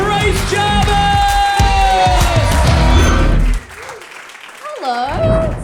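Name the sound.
audience applause for a comedian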